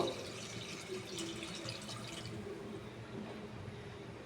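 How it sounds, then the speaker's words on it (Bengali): A steady stream of water pours into a simmering pot of tomato and shrimp sour curry, a continuous close splashing wash that holds an even level throughout with no one speaking. "এখন আমি পরিমাণ মতো জল দিয়ে দিব।"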